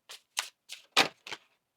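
Tarot cards being shuffled by hand, heard as five short papery riffles spaced about a quarter second apart, fairly close and quiet with silence between bursts.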